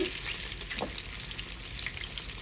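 Coated green tomato slices fry in an oil-filled pan with a steady, close, bright sizzle that holds evenly throughout, with no voices.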